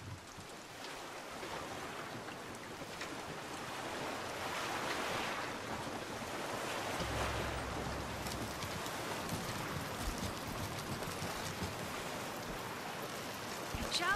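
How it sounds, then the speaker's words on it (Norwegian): Steady rain in Bioshock Infinite, a continuous broad hiss that swells slightly midway and persists throughout, with faint talk underneath. "det er sånn regn"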